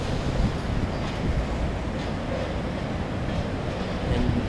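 A long freight train led by three ICE SD40-2 locomotives rolls past nearby, making a steady dense rumble with continuous wheel and wind noise and no pauses.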